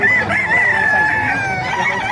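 A fighting rooster crows loudly and close by at a gamefowl market in Calumpit, Bulacan, one sustained drawn-out call with a wavering pitch.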